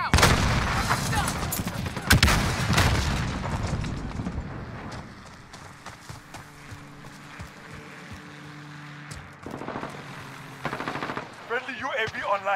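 Gunfire and a grenade blast from the video game Modern Warfare 2019: a loud burst of explosive bangs and rapid shots up front, fading into quieter game ambience with scattered shots and brief voices later.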